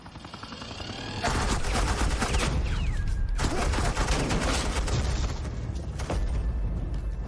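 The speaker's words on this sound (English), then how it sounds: "Seriously, you're using live rounds right now?" Sustained live-round gunfire in the Telltale Batman: The Enemy Within video game, a dense continuous fusillade of rapid shots that ramps up after a second and stays loud throughout.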